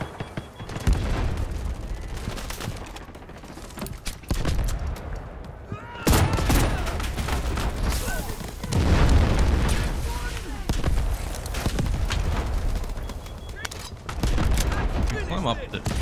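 Gunfire in the Delta Force video game: rapid, continuous bursts of shots and booming impacts fill the mix, loud and dense throughout, with a voice talking over parts of it.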